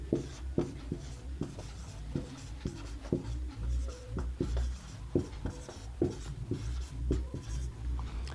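Pen writing on paper during a Sanskrit class lesson, close and quiet, with short scratchy strokes and taps in an irregular rhythm and no talk.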